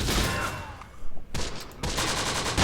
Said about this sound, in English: Few American machine gun units exchanging shots with our boys